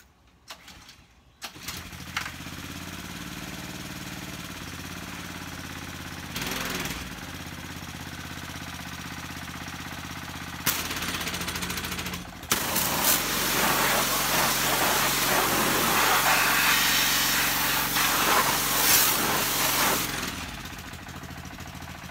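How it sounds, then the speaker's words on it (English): Engine of cleaning equipment cranks to life and runs steadily, a loud continuous mechanical drone that roughens and grows louder midway, with a clattering, hammer-like rattle. "I haven't cranked my equipment up. Let's see how easy it is to crank up."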